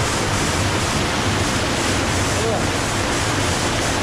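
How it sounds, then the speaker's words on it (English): Rushing waterfall water in a Vancouver Island canyon, a dense, steady broadband roar filling the whole stretch close to the microphone, with no clear voices above it. "Just enough waterfall pressure to kind of mess me up."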